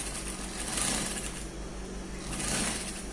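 A sewing machine stitches a trouser seam, a steady close mechanical whir with a faint pulsing rhythm that swells and eases twice over a few seconds.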